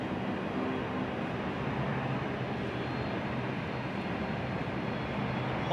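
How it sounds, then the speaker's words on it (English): A propeller aircraft taxis at Hamburg Airport, its engines making a steady broadband drone and whirr that holds at an even level throughout, with no voices heard. "Love the sound of a prop in the morning."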